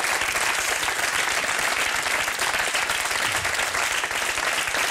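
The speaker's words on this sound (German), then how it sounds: "Ja, kleiner Applaus." A studio audience applauds steadily for the full stretch, with dense, sustained clapping throughout and no talking over it.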